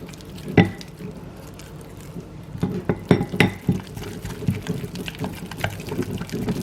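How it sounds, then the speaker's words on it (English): A spoon stirs cream cheese icing mixed with heavy whipping cream in a bowl for brownies, giving scattered clinks and soft scraping against the bowl, with a few sharper knocks, close and with no talking. "Give it a really good stir."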